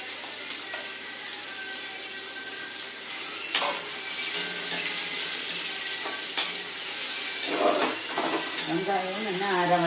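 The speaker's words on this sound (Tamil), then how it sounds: "கொஞ்சம் உளுத்தம் பருப்பு நல்லா புரிஞ்சுட்டு நான் வெங்காயத்தை கொட்டுறேன்." Sliced onions land in hot oil with frying urad dal for a capsicum curry. A steady close sizzle runs throughout, with scraping stirs and small sputters, and a voice comes in faintly near the end.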